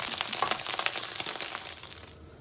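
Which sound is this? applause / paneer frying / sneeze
paneer frying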